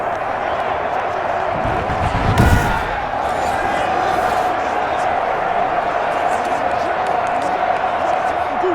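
A home crowd in a Madden NFL 21 football game, Miami Dolphins versus Arizona Cardinals, roars as a steady wash of stadium noise with a brief thump and swell near the middle, while a commentator talks over it.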